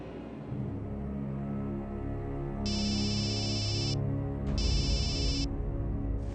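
A phone ringtone plays during a call, two electronic chiming bursts about a second long, heard over a busy background of layered music or tones.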